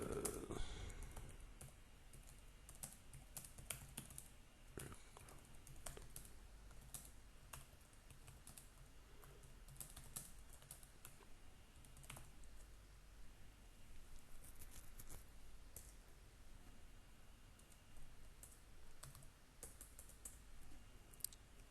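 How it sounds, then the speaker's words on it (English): A computer keyboard is typed on for a chat message, producing faint, continuous rapid key clicks with brief pauses throughout, quiet and close with no speech. "Let me type on the chat here."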